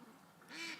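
A small duck gives a faint quack near the end of a short stretch of quiet outdoor background near muddy water, the call brief and fairly distant.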